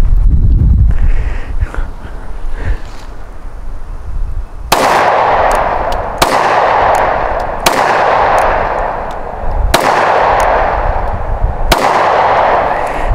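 A handgun fires five loud, close shots about a second and a half apart, each a sharp crack with a ringing decay, emptying the magazine outdoors after a quieter stretch of handling.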